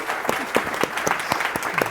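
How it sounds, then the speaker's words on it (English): An audience at a panel discussion claps for the speakers, a short burst of dense, loud applause close by with sharp individual claps standing out. "let's thank our distinguished speakers with applause"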